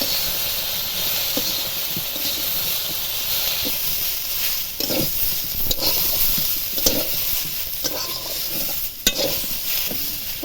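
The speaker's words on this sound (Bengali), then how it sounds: "সবজিগুলো ভাজা হয়ে গেছে" Mixed vegetables for shukto frying in a pan, a loud hissing sizzle broken by repeated scraping stirs of a spatula against the pan, close up and with no talking.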